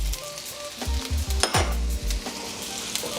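Onions and celery stir-frying in a hot pan for chicken chow mein, a loud steady sizzle with repeated scraping and clanking of a utensil stirring the pan, no talking.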